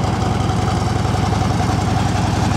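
A 2012 Harley-Davidson Road King Classic FLHRC motorcycle engine idling up close, a loud, steady low rumble with an even pulsing beat throughout.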